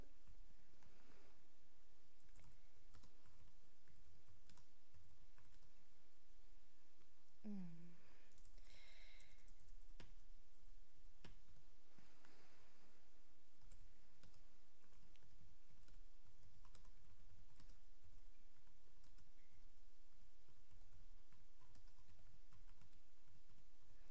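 Someone types on a computer keyboard while entering text in Cricut Design Space. The soft, quiet key clicks come in scattered bursts over a low room hum, with a brief breathy sound partway through.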